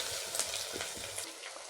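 Onions sizzle in hot oil close by, a steady hissing fry with soft stirring scrapes.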